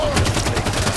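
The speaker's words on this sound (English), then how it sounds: "Firing on me." Halo 5 gunfire comes as a rapid burst of close, loud game shots in a quick, even rhythm, filling the whole short moment.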